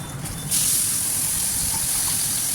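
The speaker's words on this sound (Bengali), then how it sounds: "এরপর এই তেলেতেই আমি কাঁচা লঙ্কা আর ওই কালো জিরে ফোড়ন দিয়ে দিচ্ছি।" Green chillies and black cumin seeds dropped into hot oil in a pan for a pomfret fish curry, the sound jumping into a loud, close, continuous hiss and spatter after a quieter start.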